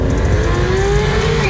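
Porsche GT3 RS sports car engine revving hard at a Cars and Coffee meet, a loud close engine note rising steadily in pitch over a sustained, unbroken rev.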